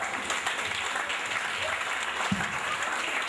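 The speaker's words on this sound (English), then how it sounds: "Shall we put our hands together for Jesus?" Congregation applauding at a church Christmas carol service, a steady wash of many hands clapping throughout with a faint voice briefly mixed in.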